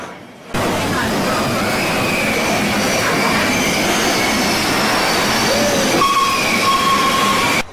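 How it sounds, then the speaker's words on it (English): A Big Thunder Mountain Railroad coaster train at a Disney park rolls into its first tunnel as the brakes release, a loud sustained rumble of wheels on track with rising squeals and whistling tones toward the end. "the train's brakes are released and we enter the first tunnel"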